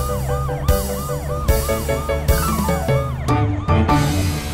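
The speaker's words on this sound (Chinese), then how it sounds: "超雷达警车雷克，" A cartoon police car siren rings out loud and close, a bright electronic wail rising and falling in steady repeating cycles over an animated background score, with no voices.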